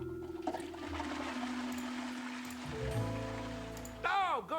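Toilet water sound effect in a video game, a gurgling, rushing flush that swells and fades, with tonal game sounds and warbling chirps layered over it near the end, moderately quiet.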